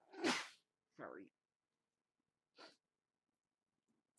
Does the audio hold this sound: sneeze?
yes